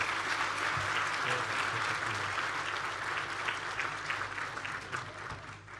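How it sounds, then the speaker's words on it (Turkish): An audience applauds the mayor of Tirana at a gathering in Hacıbektaş, producing a dense, even wash of many hands clapping that holds steady for several seconds and eases slightly near the close. "Eryon'u alkışlayın Tiran Belediye Başkanı."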